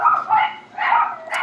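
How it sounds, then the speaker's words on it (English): Several dogs barking close by in quick succession, a few rapid barks with a short pause between, no talking. "I apologize for the dogs barking if you can hear them."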